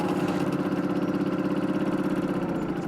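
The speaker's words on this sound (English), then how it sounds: "Arriving for a hot date on a moped." A moped engine idles steadily close by, its even, rapid putter holding at a constant loud level with no other sounds.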